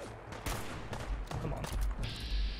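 Gunfire from a sniper rifle in the Fallout 4 video game, a string of loud sharp shots spaced irregularly over a steady game background, the later reports trailing into a sustained hiss.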